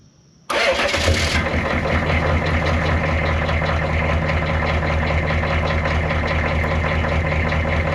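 A car engine that has sat unused for a long time cranks and catches right by the tailpipe, then settles into a steady, loud, even idle that runs alone to the end.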